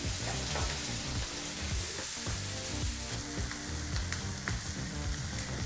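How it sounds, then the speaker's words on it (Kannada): Onion frying in oil over a medium flame, a dense, steady crackling sizzle with faint scraping of stirring mixed in, close and constant with no pauses. "ಈರುಳ್ಳಿನ ಒಂದು 2 ನಿಮಿಷಗಳ ಕಾಲ ಮೀಡಿಯಂ ಫ್ಲೇಮಲ್ಲಿ ಫ್ರೈ ಮಾಡ್ಕೋಬೇಕಾಗತ್ತೆ"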